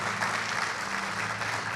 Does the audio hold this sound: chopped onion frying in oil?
no